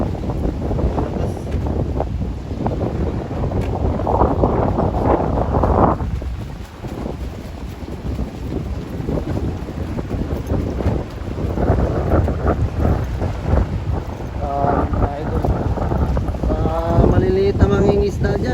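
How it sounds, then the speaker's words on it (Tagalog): Strong storm wind from Amihan weather roars steadily across the microphone near the sea, with gusting buffeting and rushing noise that swells and dips over the whole stretch, while someone speaks over it. "Dahil sobrang lakas ng hangin."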